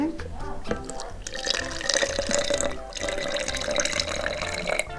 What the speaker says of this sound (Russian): заливаем так, чтобы было 100 миллилитров